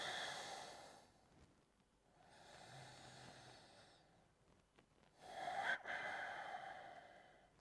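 Slow, faint breaths in and out during a standing yoga pose in a vinyasa session, with a few long, soft inhales and exhales and no talking.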